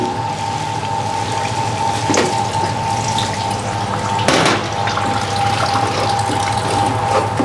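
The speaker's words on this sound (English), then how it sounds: "and add a little bit of water." Water poured into a spicy Thai salsa mixture of salt, palm sugar and tamarind sauce for nam prik ong, running as a steady close stream with a brief louder splash midway.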